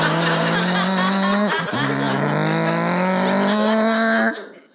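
Suzuki motorcycle engine revving loud and close, a steady high whine with a brief dip and recovery midway before cutting off near the end.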